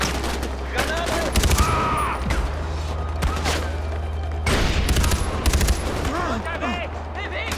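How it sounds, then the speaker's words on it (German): Rapid bursts of gunfire and a booming grenade blast in the video game Far Cry 4, loud and dense throughout, with voices shouting over the firefight. "Granate!"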